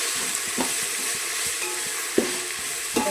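Ginger garlic paste sizzles steadily in hot oil while a spoon stirs it, with a few soft scraping knocks against the pan over the constant frying hiss.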